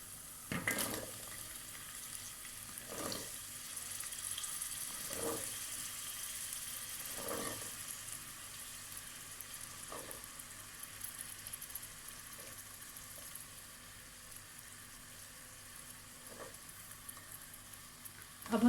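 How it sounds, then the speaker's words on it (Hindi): Chickpeas frying with spices in a pan, a steady soft sizzle broken by regular scraping stirs of a spoon against the pan every few seconds, close and moderately quiet with no talking. "अब हम चनों को मसाले के साथ भूनेंगे।"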